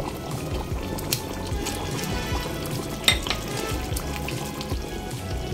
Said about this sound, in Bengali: গরম জল দেওয়ার পর ঝোল ফুটতে শুরু করেছে